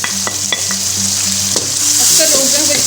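Scooped-out tinda pulp and water hit hot masala in a pan, setting off a loud, continuous sizzle and bubbling with a few spoon knocks and stirring scrapes, close up and with no talking.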